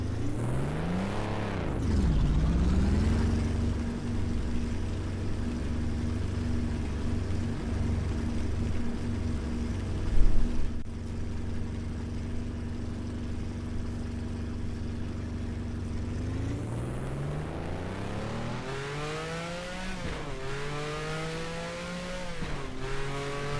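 A Porsche 908 race car engine in a video game roars continuously on the 1977 Le Mans track, revving up and down through gear changes with a brief tire squeal, loud and close throughout.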